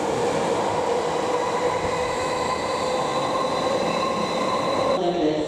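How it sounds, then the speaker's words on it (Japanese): A Tokyo Metro Tozai Line local train bound for Nishi-Funabashi departs Toyocho station, its loud steady rumble and motor whine filling the platform before the sound drops away near the end. "8時57分発の各駅停車西船橋行きが発車"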